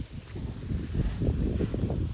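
Cool wind gusts through neem trees in a Botad village, a steady low rumbling whoosh with buffeting on the microphone, rising slightly and holding close and fairly loud for a couple of seconds.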